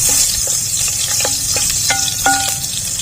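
Ginger and garlic sautéing in a pan, a loud close sizzle with sharp stirring clinks and scrapes of a utensil against the pan, no talking.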